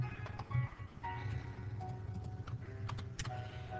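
Keys on a computer keyboard are tapped while entering an Excel formula, a run of light, irregular clicks at close range over a quiet background.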